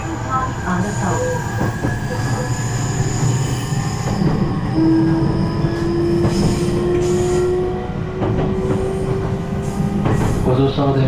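An E531 series electric commuter train on the Mito Line rolls steadily along the track, with a continuous rumble, rhythmic rail clicks and a rising high squeal from the wheels.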